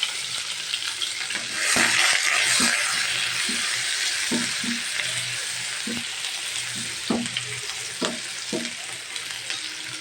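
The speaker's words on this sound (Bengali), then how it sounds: "এখন আমি পেঁয়াজের কুচি দিয়ে দিব গরম তেলে।" Chopped onion hits hot oil for a sweet pumpkin fry, bursting into a loud, steady crackling sizzle with periodic clicks and scrapes of stirring throughout, close and without talk.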